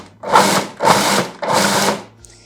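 A food processor pulses a cheesecake base mixture in three loud, even bursts of about half a second each, with brief pauses between them and no talking.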